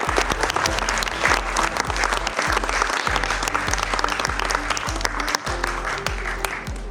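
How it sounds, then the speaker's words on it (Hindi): A large audience claps loudly at a book launch for a Diamond Books Chacha Chaudhary title, with sharp individual claps standing out from a continuous roar of hands and a low hum running underneath. "जोरदार तालियां"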